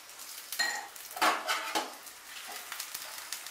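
Cauliflower paratha frying golden brown in oil in a pan, heard mostly as scattered clinks and scrapes of a utensil against the pan over a quiet, faint sizzle.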